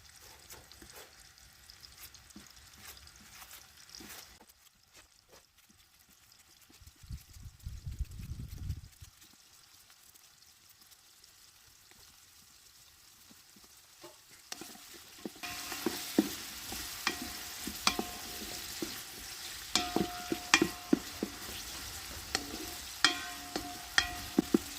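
Onions and tomatoes shallow frying in a pan, with soft stirring and scraping early on and a low burst of movement, then a steady sizzle rising later, punctuated by sharp crackles and pops.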